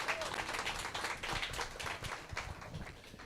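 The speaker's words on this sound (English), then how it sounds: "Let's give Gwakwa another round of applause" An audience at a digital marketing workshop applauds, with a dense, steady patter of many hands clapping at close range that fades slightly toward the end.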